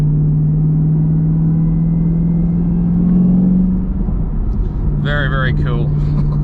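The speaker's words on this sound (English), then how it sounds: "Just the supercharger, the whine from the supercharger" A 2020 Chevrolet Camaro ZL1 runs with its supercharger whine, a steady, loud, tonal drone over low engine rumble that rises slightly before settling, with someone briefly speaking near the end.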